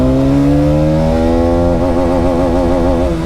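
Hero Karizma XMR motorcycle accelerating hard in first gear, its engine note climbing steadily in pitch, loud and close, with a wavering tone as revs peak near the end.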